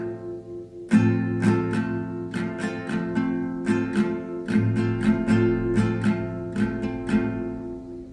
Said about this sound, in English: down, then up, up, down, up